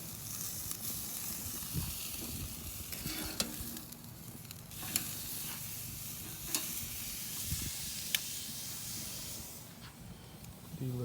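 Small steaks sizzle on a grill with a steady, close frying hiss, broken by a few sharp pops and scraping clicks throughout.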